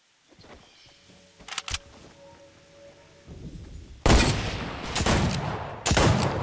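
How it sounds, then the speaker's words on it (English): Gunfire in a Western-style shooter game: a couple of sharp shots early on, then loud, close bursts of rapid firing and heavy thumping blasts toward the end, with no talking. "Ooh, nice shot."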